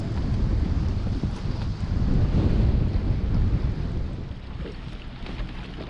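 Strong wind of at least 20 miles an hour gusts over the water on Lake Lanier during a November cold front, a loud, steady buffeting roar with heavy low rumble across the microphone and no voices.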